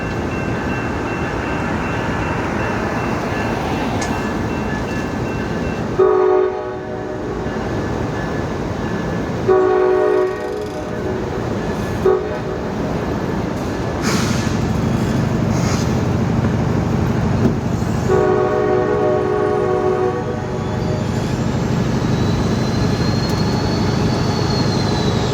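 A passenger train departs a station, a loud steady rumble of rolling cars throughout, with several long horn blasts sounding in the first half and again near the end.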